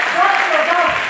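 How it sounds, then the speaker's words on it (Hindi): Audience clapping in agreement at a Hansraj College lecture event in Delhi, a short dense burst of applause with a voice audible over it. "अगर आप मेरे साथ हैं तो तालियां बजाकर आज"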